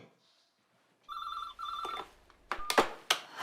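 An office desk telephone rings in two electronic bursts, clear and close, and then gives way to sharp handling clatter as the receiver is picked up.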